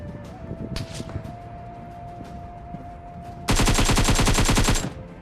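A sustained burst of rapid automatic gunfire erupts in a battle royale video game, loud and dense for over a second after quieter scattered in-game sounds and distant shots.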